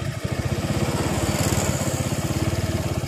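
A carbureted motorcycle engine, a Jupiter MX, Suzuki Nex or Megapro, runs with its throttle position sensor connected, its fast steady firing pulses loud and close as the revs climb and hold high.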